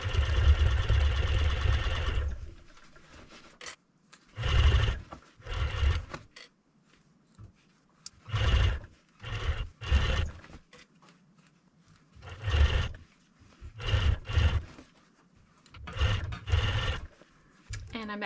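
A sewing machine runs in repeated short bursts of stitching, attaching ribbon to a fur hunting muff; loud, close whirring spurts separated by brief pauses, with an opening stretch of steadier motor noise.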